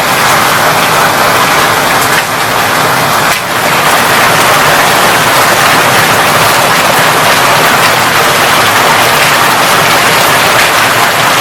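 Heavy rain pours steadily outside near windows where puddles keep forming, a loud, dense, unbroken roar that lasts the whole time with no voices.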